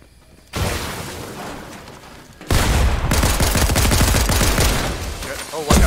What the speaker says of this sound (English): I got hit by two grenades